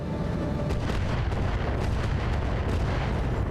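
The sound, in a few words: rocket barrage hitting in BattleTech video game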